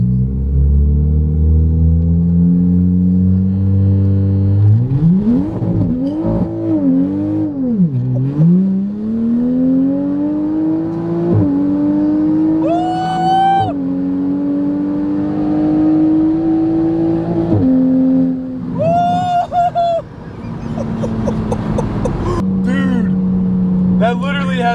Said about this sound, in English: We're gonna do a little pull here for him, then we get some data.